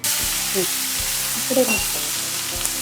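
Food sizzles and fries steadily on a hot tawa during quick satvic recipe preparation, a continuous close crackle with a few brief clinks and stirring touches.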